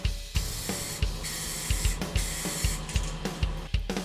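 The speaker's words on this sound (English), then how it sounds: "we'll start by applying this Rust-Oleum 2X moss green in a satin sheen" Rust-Oleum 2X moss green satin spray paint is applied to a Charvel Desolation guitar body in steady hissing bursts, with repeated short pauses between passes, close and fairly loud over faint background music.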